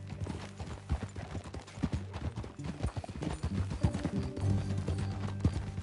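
Horse hooves clip-clop steadily in Red Dead Redemption 2, a close, even trotting rhythm that runs the whole time beneath low background game sound.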